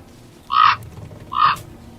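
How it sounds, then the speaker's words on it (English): A raven croaks twice in a rough, throaty call, the two short bursts about a second apart, close and clear over a faint low background. "The raven croaked."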